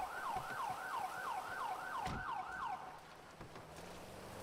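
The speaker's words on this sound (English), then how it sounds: "the way that the sirens are now handled a little bit differently as well" An emergency vehicle siren in the video game Bus Simulator wails in a fast, repeating up-and-down cycle, loud and steady, before cutting out, with low engine rumble beneath.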